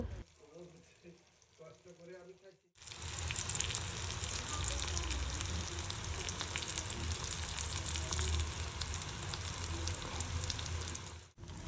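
Eggplant fries in oil after chopped onion and coriander go into the pan: a quiet opening with soft rhythmic sounds gives way to a loud, continuous sizzle and crackle that holds until the end.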